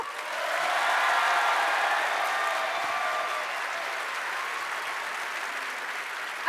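A crowd at a company celebration and start-up trophy event claps for an applause meter, swelling quickly into loud, steady applause that eases slightly but keeps going.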